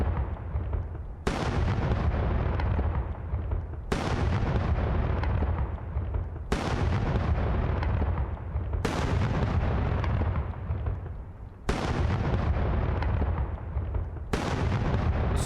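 Rockets launched from a tube in the Fireworks Mania video game burst one after another, six loud booming explosions at regular intervals, each trailing off into crackling rumble before the next.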